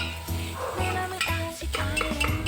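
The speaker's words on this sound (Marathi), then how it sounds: "याच्यामध्ये उभा चिरलेला कांदा टाकायचा आहे आणि व्यवस्थितपणे सोते करून घ्यायचं आहे" Lengthwise-sliced onion sautés in a pan with a soft, continuous sizzle while a spoon repeatedly stirs and scrapes the metal in uneven strokes, close and moderately loud.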